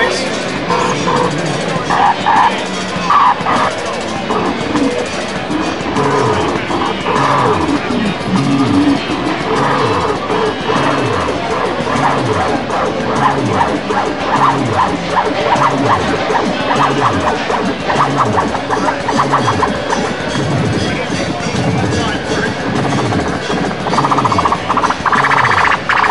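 Korg Monotribe analogue synthesizer playing a dense, continuous noisy synth part over a fast repeating drum rhythm with hi-hat, steady and loud throughout with a busy, harsh texture.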